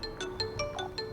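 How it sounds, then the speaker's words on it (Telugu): A mobile phone ringtone heard through a walkie-talkie chimes in a quick repeating pattern of bright electronic tones, fairly faint and steady throughout. "నా వాకీ టాకీలో నుంచి నా ఫోన్ రింగ్ వినిపిస్తుంది ఏంట్రా?"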